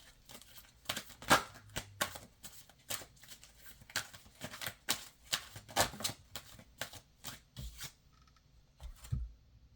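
Archetype cards are shuffled and drawn in a quiet series of soft riffling and sliding bursts, irregular and close, with brief pauses between and no talking.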